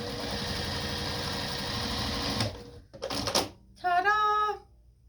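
A sewing machine does rolled hemming on a mini apron, giving a steady mechanical whir for a couple of seconds. It then stops, and a few short clicks and a brief whirring burst follow.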